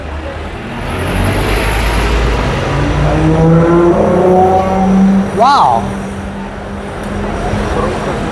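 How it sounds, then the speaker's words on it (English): A London city bus engine roars past close by, swelling and then easing off, while a person gives a brief excited exclamation. "That is a pretty cool sound for a bus."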